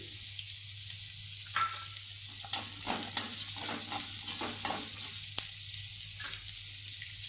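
Green chillies frying in oil for an avalakki (poha) dish, a quiet steady sizzle broken by intermittent stirring taps and scrapes, with a low background hum and no speech.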